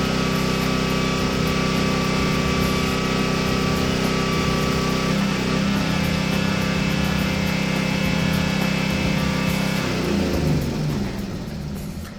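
A generator running while powering two welding machines gives a loud, steady engine drone with a constant hum that holds for most of the stretch before easing near the end, with no talk.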